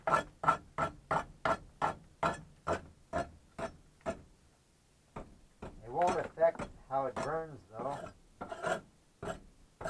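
Rough rhythmic scraping strokes rasp mud off a log in a woodshed, a steady series that pauses briefly, then resumes while someone speaks over it.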